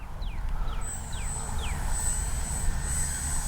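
A Kavan Bristell B-23 RC model airplane flying on a windy day, its steady engine drone held under a constant whine, with birds chirping faintly in the background.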